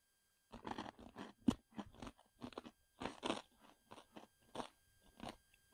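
Crunchy Takis Zombie chips are chewed close up, a run of sharp, irregular crunches and bites in a quiet room with no talking.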